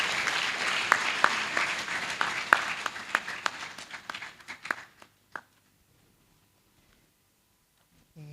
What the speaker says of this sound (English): Shall we welcome her with an applause?